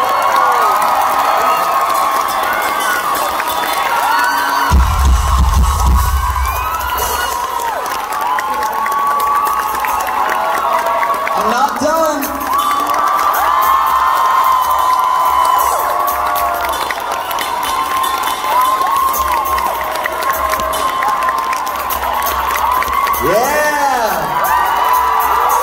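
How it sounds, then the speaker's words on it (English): Concert crowd at a show in San Diego clapping and cheering, a dense continuous roar of shouts, whoops and applause, with a deep thump near the start and excited screams rising throughout. "Will you guys like clap for all until I get the belt done?"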